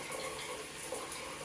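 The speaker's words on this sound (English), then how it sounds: "It's raining in our shower, honey." Water pours steadily from a newly installed rain shower head in a home bathroom, a continuous broadband hiss of spray with no pauses, heard close and fairly quiet.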